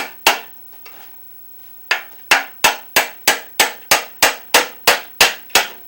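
Hammer driving a tool in beside a spot weld on a steel seat mount plate, a few scattered strikes then a steady run of about a dozen sharp, ringing metallic blows, close and loud.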